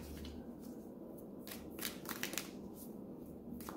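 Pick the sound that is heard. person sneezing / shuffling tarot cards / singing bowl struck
shuffling tarot cards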